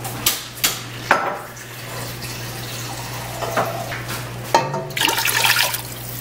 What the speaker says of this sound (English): I'm going to take the rest of the water and put it in.